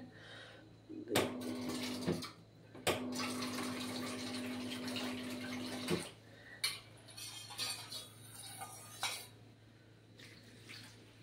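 Tap water runs into a soup pot holding barley, a steady gush that starts and stops in two bursts near the mic, followed by light clinks of utensils and dishes.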